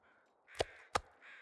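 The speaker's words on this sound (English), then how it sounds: "I hear crows to my right, but I assume that's traveling crows." Crows caw in the video game The Long Dark, two sharp calls in quick succession over a faint wind-like background, moderately distant.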